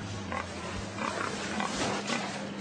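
Pigs in a large industrial piggery near Angers, France, giving brief low grunts and squeals over a constant hum of barn machinery, moderately loud and close.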